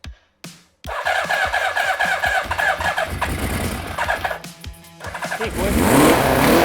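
Long-unused Suzuki Katana motorcycle, a barn find, cranks and fires, then revs in loud, choppy bursts close by, dips briefly and picks up again, with a short spoken remark.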